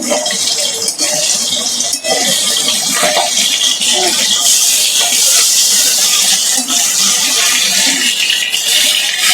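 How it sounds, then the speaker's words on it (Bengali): Pabda fish fry lightly in hot oil in a pan, three at a time, giving a loud, dense, continuous sizzle and hiss up close, with faint clatter scattered through it. "তিনটে তিনটে করে আমি মাছ ভেজে নেব হালকা ভেজে নেব"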